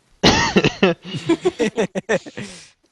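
A person coughs in a loud, breathy burst near the mic, followed by a rapid string of short, choppy cough-like or throat-clearing sounds that taper off.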